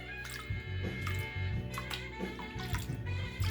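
Dirty water sloshing and dripping in a gold pan, with repeated wet splashes and drips close up over a steady low hum, no talking.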